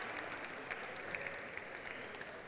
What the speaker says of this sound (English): They need some clapping.